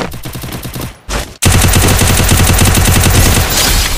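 UMP submachine gun fire in a shooting video game, loud rapid automatic bursts close up, a brief pause then a long sustained stream of shots with no talk.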